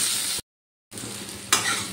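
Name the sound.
pumpkin and carrot pieces frying in oil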